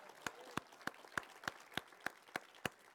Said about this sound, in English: Can we give him one more hand clap of praise today?